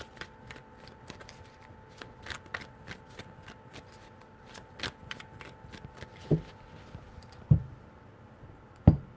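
Tarot cards being shuffled, a rapid run of crisp riffling flicks and snaps close to the microphone, with a few louder card taps toward the end and no talking.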